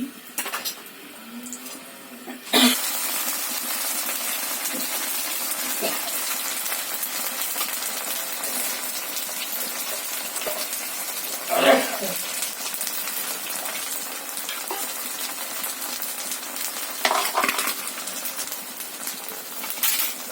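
Ground masala hits hot oil with a sudden burst, then fries in a steady broadband hiss with a few scrapes and clinks, close and continuous.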